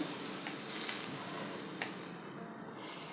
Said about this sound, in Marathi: आता तव्यावर घालूया तवा गरम झाला आहे भाकरी तव्यावर घालूया